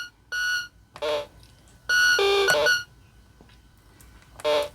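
A 1979 Parker Brothers Wildfire handheld electronic pinball game plays short bursts of bright, buzzy electronic beeps and warbling tones, separated by brief quiet gaps.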